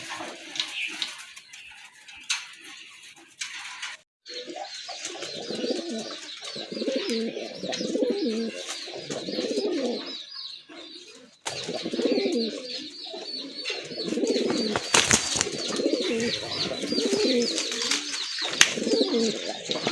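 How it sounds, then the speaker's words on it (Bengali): A big sky-blue pair of Madrasi golla pigeons coo in repeated low throaty phrases, close and clear, with short breaks, soft chirps and rustling in between. "আরেক জোড়া কবুতর, এটা হচ্ছে আপনার আকাশি কালারের ভিতরে বিগ সাইজের এক জোড়া মাদ্রাজি গোল্লা কবুতর।"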